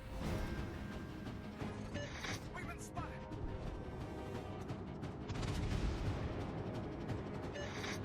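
Naval gunfire from warships in a video game, a dense stream of deep booms and rumbling blasts layered over continuous battle noise and mechanical clatter, with swells of heavier firing.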